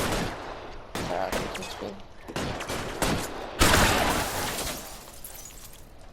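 Gunfire from the crime video game L.A. Noire, several loud bursts of shots spread across the stretch with a heavier blast near the end, while someone talks over the action.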